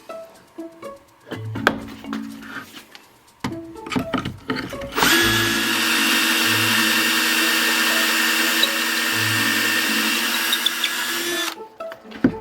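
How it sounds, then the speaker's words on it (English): A drill bores holes in wood boards through a drill jig for a creak box, a sustained whine lasting several seconds after scattered knocks and handling clatter, close and fairly loud, ending abruptly. "we'll get out our easy rig and drill some holes in these to attach them to each other"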